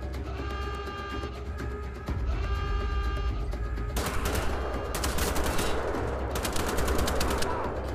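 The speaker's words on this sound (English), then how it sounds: "Sometimes a burst fire works just fine." Rapid burst gunfire in Wolfenstein, with dense automatic volleys and sharp repeated cracks over a constant loud battle din, growing heavier in the second half.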